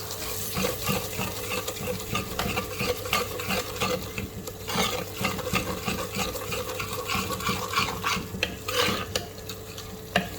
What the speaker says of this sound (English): one teaspoon of red chili powder, give this mixture a good stir.